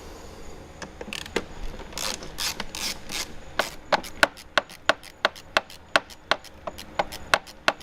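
A hand ratchet clicks while working screws on the turbo inlet tube of an Audi A4, first a few scattered rubs and clicks, then a steady run of sharp, close, evenly spaced ratchet strokes, no speech.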